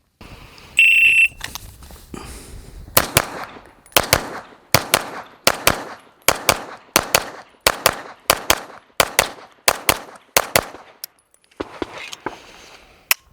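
Handgun firing rapid doubles until the magazine runs empty, about a dozen evenly spaced pairs of sharp, loud, close shots, preceded by a shot-timer beep; a Gibson Custom Guns Praetorian pistol.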